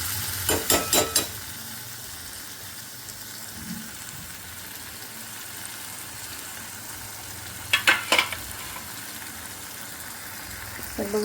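Tomatoes and coriander frying in oil in a pan, a low steady sizzle broken by two short bursts of rapid metallic clattering from a spoon or lid against the pan.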